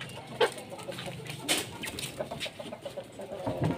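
Chickens clucking in a coop, a scatter of soft clucks and short squawks from several birds nearby, fairly faint, with no talk over them.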